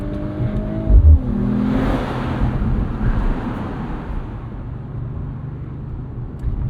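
A 2025 Mercedes-AMG CLE 53 Cabriolet with a 443 hp turbo inline-6 drones loudly on an evening commute, its engine note briefly shifting during an attempted downshift, then a steady road and engine rumble continues.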